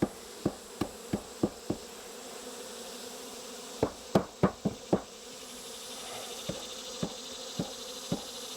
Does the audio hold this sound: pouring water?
no